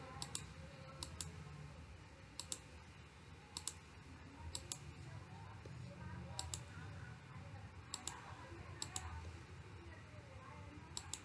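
Mouse clicks select the outer beams of a tall building model in structural design software, coming as sharp, isolated clicks spaced irregularly over a low steady background hum, fairly quiet throughout.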